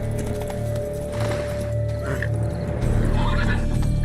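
Horse hooves pound in a steady galloping rhythm, with a whinny and a constant game-like hum underneath, in The Witcher 3.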